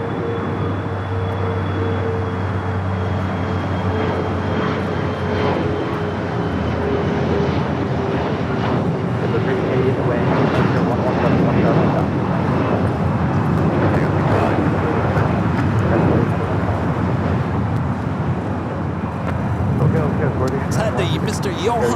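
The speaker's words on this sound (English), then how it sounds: "Got to a CRJ 700. Take it off here on the south side." A CRJ 700 regional jet taking off from the south side of LAX, a steady loud roar of engines with a rising whine, continuous broadband noise throughout with no pauses.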